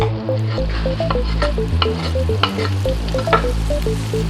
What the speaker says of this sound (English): Give this a nice quick and smooth stir